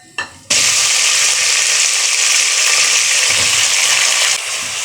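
Cumin seeds, a teaspoon's worth, dropped into a spoonful of hot ghee for an eggplant and potato curry, give a brief clatter and then a loud, steady sizzle that fills the pan close up and tapers slightly at the end.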